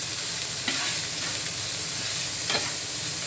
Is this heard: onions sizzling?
yes